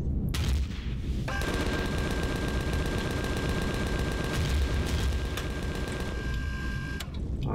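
Rapid rattling volley of homing missiles launching from a small vessel in the space survival game Empyrion, a dense mechanical barrage that starts abruptly, holds steady for several seconds and cuts off sharply, with a thin tone running underneath.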